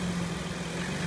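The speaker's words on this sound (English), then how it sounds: "with Brooks revving the engine for me, it makes it it augments that noise" A car engine revved while a noisy bearing whines, heard as a steady close mechanical hum with a sustained low tonal drone and no talk over it.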